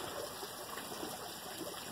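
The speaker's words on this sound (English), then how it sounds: "There's obvious signs that it is that little leakage of water" Water leaking from a garden pond, a soft continuous trickle and faint rush heard close and quiet, with no voices.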